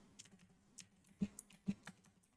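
Computer keys and mouse buttons click during live stock trading, a sparse run of light taps with two sharper, louder clicks near the middle, close and quiet with no talk.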